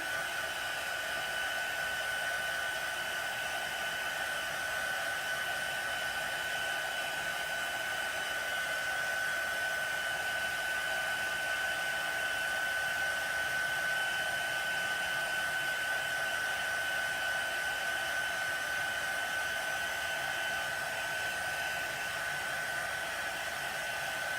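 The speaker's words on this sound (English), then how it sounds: "So now I'm going to heat set this with my gun." A heat gun heat-setting chalk ink on a chalked picture frame gives a steady, even blowing whir with a faint high whine, running continuously and close by with no talk.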